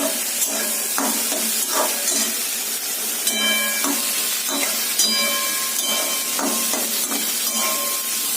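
Green banana and green chilies sizzle and fry in a pan with a steady hiss, punctuated by scraping, clanking stirs of a utensil against the metal.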